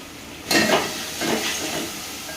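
Ginger garlic paste sizzles as it hits a hot pan of onions and turmeric, starting with a sudden hiss and then settling into steady frying with faint stirring, close and alone.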